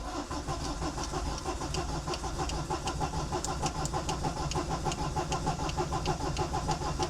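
A Citroën C15 engine cranks after preheating, a rapid, regular mechanical churning that runs steadily and fairly loud throughout, with no talking over it.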